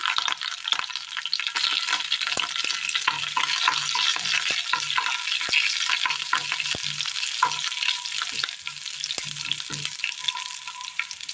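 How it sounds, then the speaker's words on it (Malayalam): Shallots and fennel seeds frying in a little oil for a Kerala curry give a steady, close bright sizzle, broken by scattered crackles and light stirring taps throughout, with no voices. "ഒരല്പം എണ്ണ ഒഴിച്ച് കൊടുക്കാം. രണ്ട് മൂന്ന് ചെറിയുള്ളി, ഒരു പിഞ്ച് പെരുംജീരകം"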